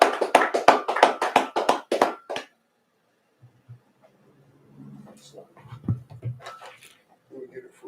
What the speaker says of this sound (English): You might clap it up.